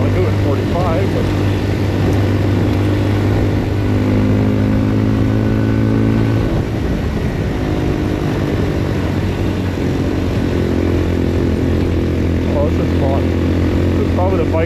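A Papio SS mini-moto motorcycle engine straining up a steep hill, a loud continuous buzzing drone that shifts pitch as it pulls, with some voice over it.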